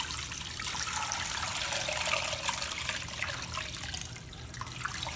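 Water pours steadily into a pot of frozen pork bones, a continuous bright trickling splash that holds at an even level for several seconds before easing slightly near the end.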